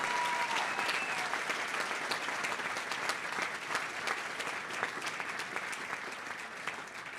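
A crowd at a golf course grand opening gives Tiger Woods steady, dense applause that stays full throughout, with scattered sharper claps standing out and a faint voice or whistle early on.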